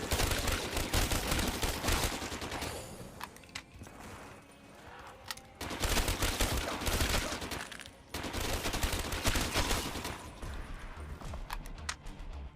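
Rapid automatic fire from an RPK machine gun in Black Ops 3 Zombies on the map Nacht, loud sustained bursts with brief pauses between them, dense and continuous through most of the span.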